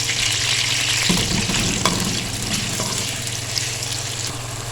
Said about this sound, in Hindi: अदरक लहसुन को मैंने 1 मिनट तक भून लिया, इसको गोल्डन नहीं करेंगे।